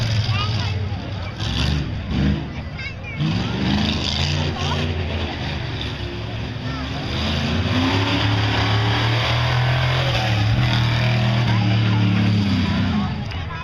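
A 1972 Ford Bronco tough truck racing on a dirt course, its engine roaring and revving with rising, surging pitch as it accelerates, loud and near, while an announcer talks over it.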